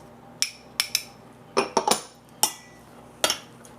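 Utensils clinking and scraping against a bowl while mixing an eggplant salad with salted egg and onion, about a dozen sharp taps in irregular bursts, close and fairly quiet.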